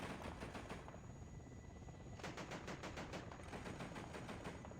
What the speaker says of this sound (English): It's actually shooting at the helicopter, not the BMD.